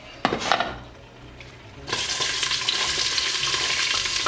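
Onion frying in a pan, heard first as a few metal clinks and utensil scrapes, then a loud, steady sizzle that fills the rest of the time.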